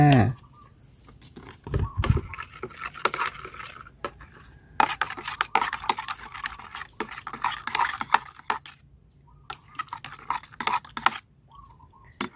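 A fertilizer mixture for plants containing a teaspoon of added ingredient is stirred by hand, giving scattered scraping and clinking strokes close by, with brief pauses between bursts.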